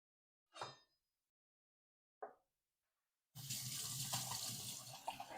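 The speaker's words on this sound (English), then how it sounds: "Start by washing your hands." Running tap water splashes into a kitchen sink as hands are washed, steady and close for the last two seconds after a couple of brief knocks, no talking.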